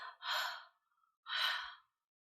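Two soft breathy exhalations imitating the letter H sound, each about half a second long with a short pause between them, close and quiet with no speech.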